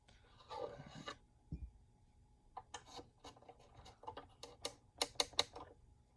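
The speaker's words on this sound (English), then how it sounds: "feeling for a very consistent feel as I rotate the reamer" Reamer turning in a violin peg hole, giving soft, quiet scraping strokes followed by a quick run of dry ticking rasps near the end, up close with no voices.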